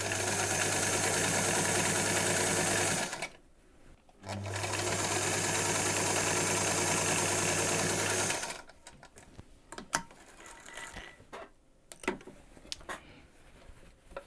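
A sewing machine drives a waistband seam through the thick pleated fabric of a kilt: a loud, fast, steady mechanical whirr, a short pause, a longer run, then scattered clicks and handling noises as it stops.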